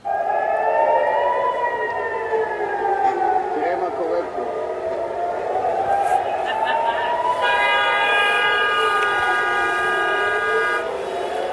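Long, wavering vehicle horn blasts rising and falling over one another in a street during the Iran-Israel war, loud and sustained, with more steady horn tones joining later over background noise.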